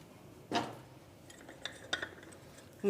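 Clay bowls for kheer being set down on a surface, a few faint clinks and knocks spaced across a quiet kitchen, with a louder bump at the very end.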